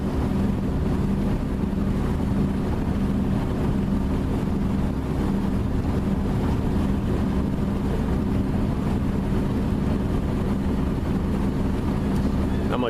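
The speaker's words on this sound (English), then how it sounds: "we're motoring out to see if we can get a little wind maybe" A boat motoring out across calm water under engine power, its steady low engine drone running continuously with a little wind rumble over the microphone and no talk.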